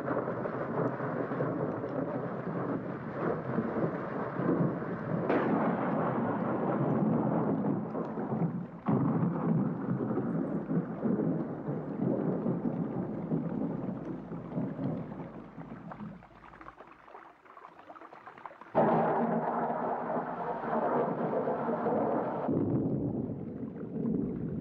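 A thunderstorm rolls with long, deep rumbling thunder that swells loudly, fades into near quiet and then cracks back in with a sudden heavy roar, no voices.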